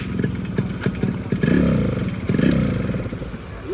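Motorcycle engine catching and revving close by, with two rising throttle blips over a steady low chug and some clatter, no talk over it.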